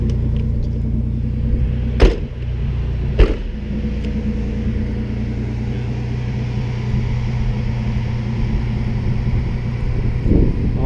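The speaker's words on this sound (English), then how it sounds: "This is my 1JZ vvti 240SX stock." A stock Nissan 240SX S13 fitted with a 1JZ VVT-i engine drives steadily, its low engine rumble and road noise holding a constant loud drone, with two brief sharp knocks early on and a slight rise near the end.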